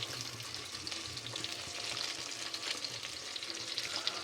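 Potatoes and carrots frying with onion and green chili for aloo biryani, a steady close hiss of sizzling oil with faint stirring scrapes, continuous throughout and no voices.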